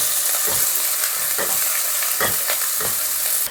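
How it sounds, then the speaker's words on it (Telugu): Onions and green chillies sizzle steadily in a pan with green cardamom and shahjeera, broad frying hiss throughout, with several soft stirring scrapes recurring at a loose rhythm; no talking. "సో ఆనియన్స్ మనకి వేగిపోయాయి కదా కొంచెం"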